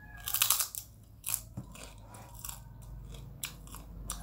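Crisp bites and crunching chews on a vegetable fritter (bakwan sayur) that has gone slightly less crunchy from being left uncovered, loud and close, with several sharp crunches early and softer chewing after.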